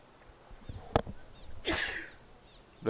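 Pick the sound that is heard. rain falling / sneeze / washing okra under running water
sneeze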